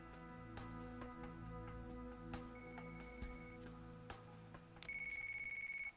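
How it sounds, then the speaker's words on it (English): A phone rings in the video game Yakuza Kiwami 2, with a steady high ringtone tone starting near the end over layered game music and ambient sound. "A phone!"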